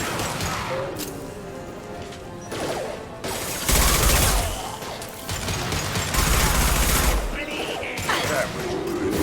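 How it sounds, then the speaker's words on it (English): Rapid bursts of heavy gunfire from an impact shot in the shooter Mass Effect 2, loud and close, with a couple of sharp blasts over a busy combat din. "Firing an impact shot."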